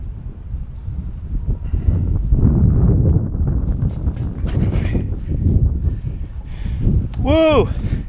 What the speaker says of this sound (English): it is way windy out here